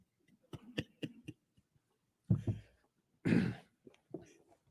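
Several short throaty bursts, then two heavier coughs a second apart at a government press conference, with small sounds between them, fairly close and otherwise quiet.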